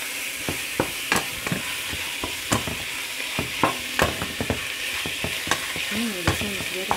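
Chicken sautéing with ginger powder in a pan for an Asian-style curry: a steady sizzle with repeated sharp scrapes and clacks of a utensil stirring, close and clear with no talking.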